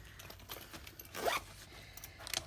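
A zipper on a pencil case is pulled open in one quick rasping run, then a second short zip follows near the end, close and fairly quiet against a low background hum.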